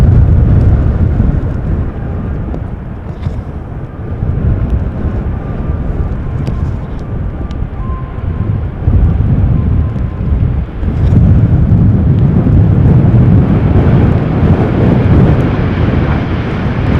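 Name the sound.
KLM Boeing 737-800 arriving in stormy weather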